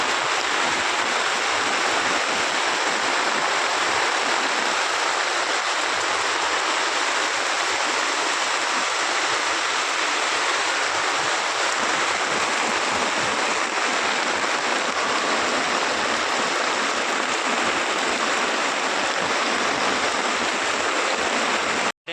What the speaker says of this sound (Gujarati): વરસાદ બહુ જ પડે છે